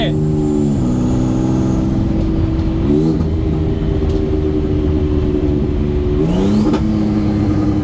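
A turbocharged Ford Taurus engine at a drag strip revs hard and accelerates, its droning pitch rising, dipping at gear shifts, then climbing again; loud and steady throughout.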